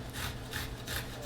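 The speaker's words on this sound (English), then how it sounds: "let me show you how you could just grate the garlic." Garlic rubbed against a grater for tomato basil soup, making three regular rasping back-and-forth strokes that are close and moderately quiet, with no talk.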